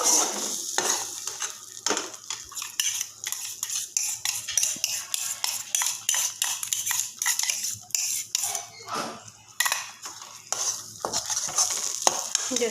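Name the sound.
stirring cashews and onions frying in pan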